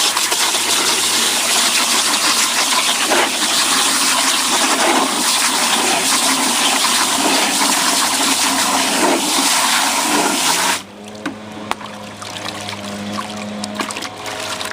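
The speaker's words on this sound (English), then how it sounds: "All you need to do is just rinse it off." Water gushes steadily as a car is rinsed off during washing, a loud continuous splashing spray that cuts off abruptly, leaving softer trickling and dripping.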